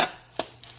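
A knife cuts through crispy baked tofu in a few short, crunchy slices, quiet and close, with brief pauses between cuts.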